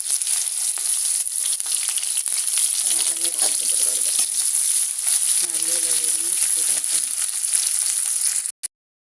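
Spices tempering in hot oil in a kadai, a steady close sizzle and crackle of frying with occasional stirring scrapes, continuous throughout before cutting off abruptly at the end.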